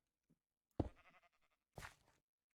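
A sheep bleating in Minecraft, two close, clear bleats about a second apart, each short and wavering, over near silence.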